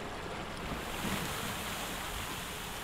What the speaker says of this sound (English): All the water is draining.